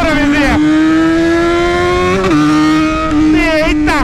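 A Yamaha XJ6 motorcycle revs and accelerates up through the gears, its engine note climbing steadily with a couple of gear-change dips, loud and close throughout with talk over it.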